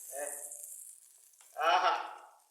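Chicken liver sizzles and spits as it is stirred in a hot pan for street-style kaleji, a steady frying hiss that swells louder as the pieces are mixed.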